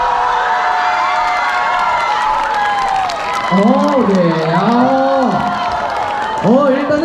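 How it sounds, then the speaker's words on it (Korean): An audience at a Korean festival singing contest claps and cheers, with broad applause under a singer's or host's voice that rises and swoops above the crowd noise. "여러분 다시 한번 뜨거운 박수 부탁드립니다"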